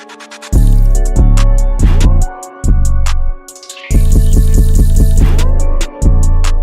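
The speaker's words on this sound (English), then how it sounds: "I thought that water splash sound kind of got spammed in there a bit" Water splash and drip effects repeat through a music beat with a heavy 808 bass, the liquid hits landing loud and frequent over the pulsing low end with no talking.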